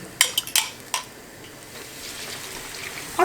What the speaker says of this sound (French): On mélange bien, on fait épaissir un petit peu la sauce